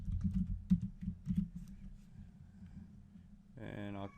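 Quick bursts of computer-keyboard clicks as a password is typed, soft and close, fill the first second and a half; a short voice follows near the end.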